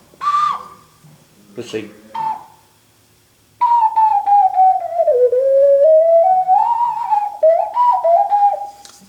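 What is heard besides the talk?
straw fire ocarina playing a Pirates of the Caribbean tune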